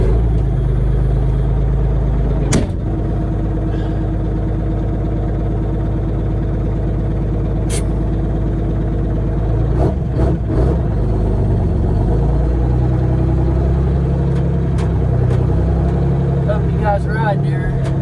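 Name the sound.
grain truck engine driving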